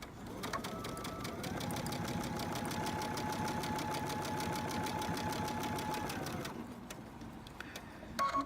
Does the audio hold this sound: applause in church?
no